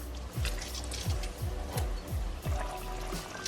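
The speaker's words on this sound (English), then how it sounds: "So in goes the lemon juice" Lemon juice and water glug and splash into a pan of fish curry in a series of short, squishy pulses, close by, with no talking.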